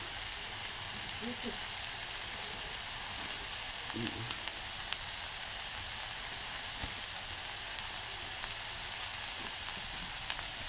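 A wild monsoon vegetable, bharangi, being sautéed with fresh grated coconut in a pan, giving a soft, even frying hiss with a few faint stirring knocks.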